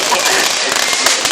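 Fireworks going off at the Potton firework display, a dense, loud, continuous crackle of bursts and sputters with no clear gaps, and voices mixed in throughout.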